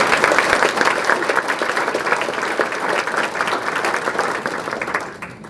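A large audience applauds steadily for elected officials at a Piqua Area Chamber of Commerce annual dinner, with dense, loud, sustained clapping that continues for several seconds before thinning at the end.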